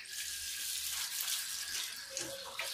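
Tap water runs steadily while taro (arbi) leaves are washed under it at a kitchen faucet, a constant close hiss of flowing water with no voices.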